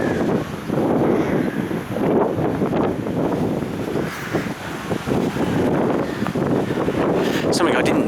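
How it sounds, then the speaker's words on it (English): Wind blowing across castle ruins: gusty, buffeting rush that batters the microphone and rises and falls in bursts, loud and close for the whole stretch, with no voices. "it's just got a bit windy"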